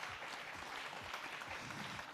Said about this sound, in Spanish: Un aplauso al psiquiatra.